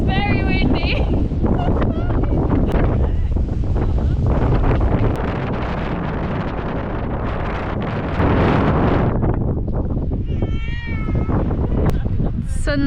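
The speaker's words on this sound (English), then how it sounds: "It's so windy." Strong wind buffets the microphone at John O Groats on Scotland's north coast, a loud, continuous roaring gust that fills the clip, with brief voices breaking through near the start and end.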